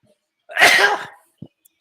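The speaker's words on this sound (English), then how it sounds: "I can't even mute my sneeze if I'm going to sneeze." A single sharp sneeze bursts out indoors in a quiet hotel room, brief and close, followed by a faint breath and silence.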